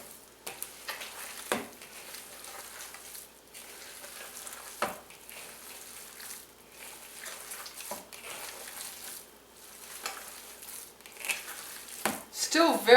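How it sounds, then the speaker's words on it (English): Cold, partly frozen ground pork sausage meat being mixed with ground onion and spices, quiet wet squelching and scraping in bursts, with someone talking now and then. "And now I'm going to mix everything together."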